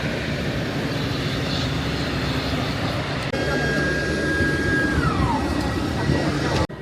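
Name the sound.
ATR 72 aircraft cabin and engine noise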